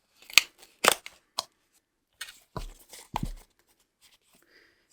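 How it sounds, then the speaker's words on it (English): A cardboard box being torn open by hand in a few short, rough bursts of ripping and crumpling, close and separated by silent gaps. "We're ripping the box."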